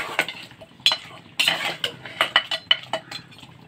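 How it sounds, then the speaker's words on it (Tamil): A spoon scrapes and clinks against a pot of mutton curry in quick, irregular strokes, close and fairly loud, with no voices. "அதையும் நல்லா கிளறி விட்டுடலாம்."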